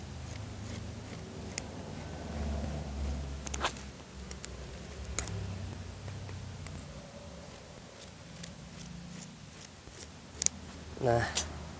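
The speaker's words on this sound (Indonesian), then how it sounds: "Ini saya gunting dulu ya" Scissors snip through a length of fabric for a circular skirt in a tailoring workshop, giving soft, close crunching cuts spaced out with pauses, with a sharper run of snips near the end, heard alone and faint.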